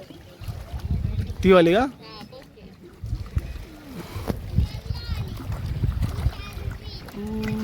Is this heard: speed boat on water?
yes